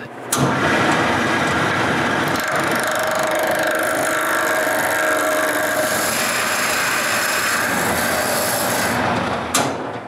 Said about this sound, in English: Install this on my lathe and turn the exterior round.